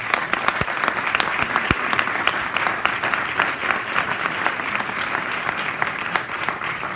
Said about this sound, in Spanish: Pues vamos a recibirlo con un fuerte aplauso.